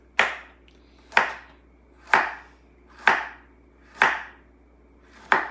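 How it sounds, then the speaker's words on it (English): Knife chopping food on a cutting board, six sharp even strikes about one second apart, close and crisp, with no talking. "fancy chopping"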